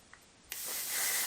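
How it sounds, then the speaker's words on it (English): A can of dry texturizing hair spray fires one sustained hiss lasting under a second, close and fairly loud, after a brief quiet moment with a small click. "this is where I'm going to use a little bit of texture spray"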